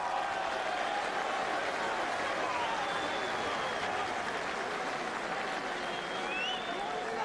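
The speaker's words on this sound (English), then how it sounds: "Woodall, the chants of the crowd." Fans at a professional boxing match chant and roar in a large arena, producing a continuous, distant wash of crowd noise that stays steady and fairly faint throughout.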